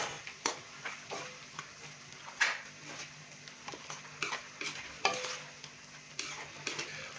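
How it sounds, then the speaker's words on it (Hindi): Beef mixed with coriander, cumin and white pepper powders in a pot, repeated soft scraping stirs and light clinks of a spoon against the pot, faint and close, with no talk. "अच्छे से हम इसको मिक्स करेंगे।"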